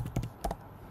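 A computer keyboard clatters in a brief burst of a handful of quick, close keystrokes at uneven spacing, with no voice over them.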